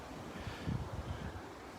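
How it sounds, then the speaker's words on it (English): Breezy onshore wind buffets the microphone on a beach in North Naples, Florida, a steady low rumble with soft surf beneath it over a couple of seconds. "Very breezy again today out on the beach."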